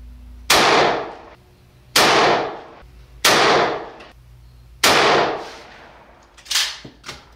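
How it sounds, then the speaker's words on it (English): Four loud gunshots ring out at a steady spacing while a rifle fitted with an OTW RS25 reflex sight is zeroed on targets at 15 yards outdoors, followed by a couple of quieter sharp reports near the end. "So we'll shoot these targets and make any little adjustments we have to"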